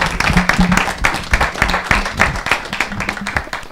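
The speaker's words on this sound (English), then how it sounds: "A round of applause for Anastasia Boden." A small audience claps for a speaker after a talk on occupational licensing, with loud, close, uneven handclaps pulsing through the few seconds and a little murmur underneath.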